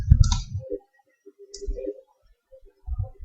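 A computer mouse clicking through Windows 7 folder options, a few sharp close clicks separated by pauses, with low bumps of handling in between.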